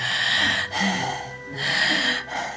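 A voice imitates heavy breathing, with two long, loud, rasping breaths separated by short pauses and no other sound.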